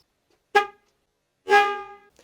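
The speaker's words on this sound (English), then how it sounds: "I'll go ahead and sound the horn now for you." Stock single horn of a 2013–2016 Mazda CX-5 sounding two separate honks, a short toot followed by a longer blast, loud and close with silence between.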